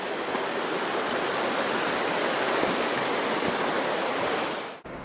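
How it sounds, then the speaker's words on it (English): Woods Creek rushes through a canyon in the Sierra Nevada along the Rae Lakes Loop, making a steady, loud, unbroken roar of running water with no voices. "This is Woods Creek."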